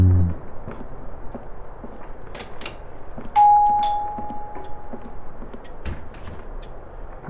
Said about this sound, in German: Der Typ kann so lange klingeln, wie er will.